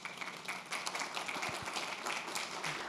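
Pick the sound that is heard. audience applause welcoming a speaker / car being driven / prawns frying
audience applause welcoming a speaker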